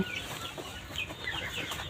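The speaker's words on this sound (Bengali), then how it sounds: "এইখানে আমার দেশি মুরগি আছে" Native chickens kept in a former rabbit hutch cluck steadily and fairly close by, with soft scratching and shuffling throughout and no talking.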